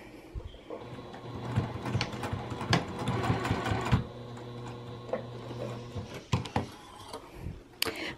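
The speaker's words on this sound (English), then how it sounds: "I'm just going to backstitch here, run down this short side all the way down the long side and back up the other short side, and I will backstitch there again." A sewing machine stitches along an apron tie, backstitching at the ends and running down the short and long sides. Its close, steady whir and rapid needle clatter run in bursts with brief pauses and no voice.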